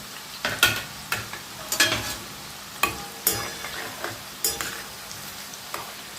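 Thin raw banana wafers fry in hot oil, a continuous sizzle punctuated by regular, fairly loud scraping and clattering as they are stirred, no voices.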